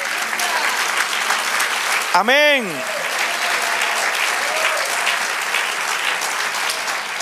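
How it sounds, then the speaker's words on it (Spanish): Worshippers in a church congregation clap continuously for the Lord, a thick wash of applause running throughout, while a voice briefly calls out over it near the start. "Del aplauso al Señor."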